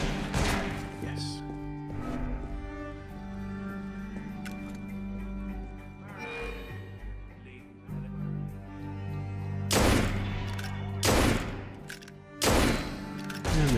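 Pistol fire in Assassin's Creed Unity, several loud, sharp shots spaced a few seconds apart and mixed with thuds and game noise, while someone talks over much of it.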